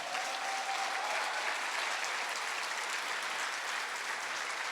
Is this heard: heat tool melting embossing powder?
no